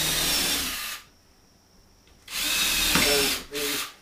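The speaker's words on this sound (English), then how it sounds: "we'll be screwing these planks in here, and these planks are they're 1x6 planks" A power drill drives screws into 1x6 wooden planks, a loud whine for about a second, a pause, then a longer run and a short final burst, close by with no talk.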